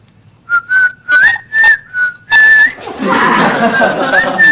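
A person whistles a series of short, clear notes, some rising, then holds a longer whistle over a rushing, breathy background noise.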